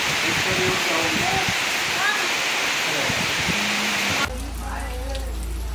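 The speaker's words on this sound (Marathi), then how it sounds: "खूप हवा आणि पाऊस त्यांचा कडकडाट चालू आहे" Heavy rain roars in a loud, continuous wash with gusting wind at a farm in Neral, then the sound cuts abruptly to a quieter, muffled noise near the end.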